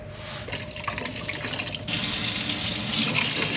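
Hot water running steadily from a tap into a sink, a continuous close splashing rush that grows louder and fuller partway through as the flow strengthens.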